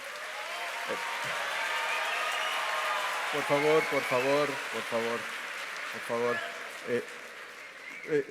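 Audience applause fills a gubernatorial debate hall for Nuevo León, a dense steady patter that carries on under a voice repeatedly pleading for quiet.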